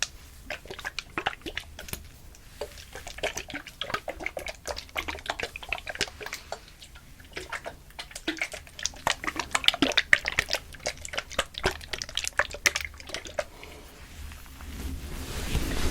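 Massage oil sloshes and drips in a small bottle with wet, irregular clicking and squelching sounds, close and fairly quiet throughout.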